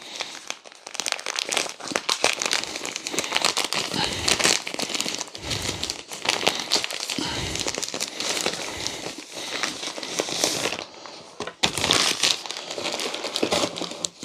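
Packaging around a DJI Pocket 3 camera pouch being torn and crinkled open, a steady run of close, loud crackling and ripping plastic for most of the stretch, with a few brief pauses.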